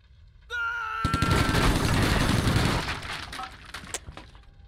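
Gunfire from a Silent Storm squad battle: after a brief tonal game cue, a dense, loud run of rapid shots and cracks crackles for about two seconds, then scattered lighter bangs and debris trail off.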